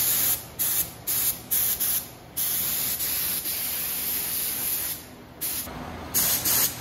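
Bursts of spray painting as a light coat of buckskin-colored paint goes onto an old 1975 International Scout II body, short hissing passes of uneven length repeating close by, with one long continuous spray in the middle.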